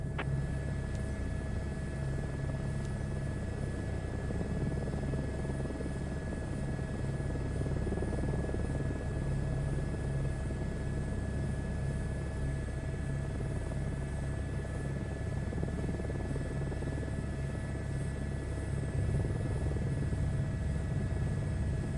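Aircraft taxiing to general aviation parking in Microsoft Flight Simulator 2024, a steady engine drone and propeller rumble with a constant whine, droning on evenly for over twenty seconds with no voices.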